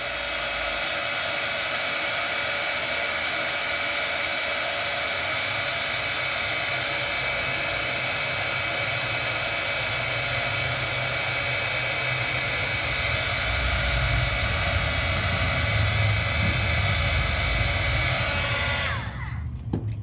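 A heat tool blows a loud, steady whooshing roar while melting embossing powder, continuous for about twenty seconds before cutting off abruptly.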